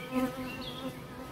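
Honey bees buzzing around hives kept without a queen excluder, a steady droning hum holding close and fairly even throughout, with no voices.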